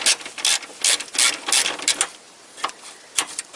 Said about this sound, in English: you need a 12mm socket, and you insert this socket in here